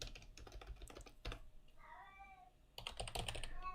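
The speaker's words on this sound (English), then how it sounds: "My cat is acting up." A cat lets out a drawn-out meow in the middle, framed by bursts of close, rapid keyboard typing before and after.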